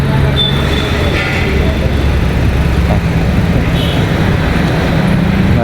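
A Flushing Matic ATF flushing machine running for an automatic transmission fluid exchange, giving a loud, steady motor drone and hum that continues unbroken, with faint talk in the background.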